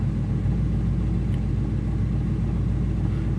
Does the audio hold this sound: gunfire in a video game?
no